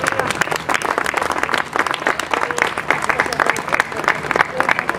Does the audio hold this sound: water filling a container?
no